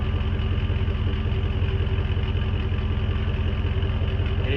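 A 2002 Jeep Grand Cherokee with the 4.7 H.O. engine idles, heard close at the tailpipe as a steady, loud, low exhaust rumble with an even pulsing throb and no talk.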